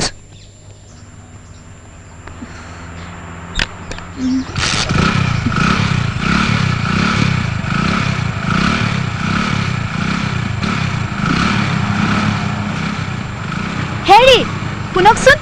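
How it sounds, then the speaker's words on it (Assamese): A motorcycle engine catches after a few quiet seconds, then runs loud and close with a steady pulsing idle and rising revs that carry on to the end. "মইতো তোমাক লৈ যাবলৈহে বাইক ষ্টাৰ্ট কৰিছিলোঁ"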